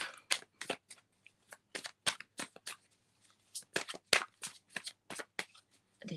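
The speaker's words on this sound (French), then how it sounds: "Je vais tirer une dernière carte de cet oracle" Oracle cards being shuffled by hand in a series of crisp, close riffling bursts, irregular and separated by brief pauses.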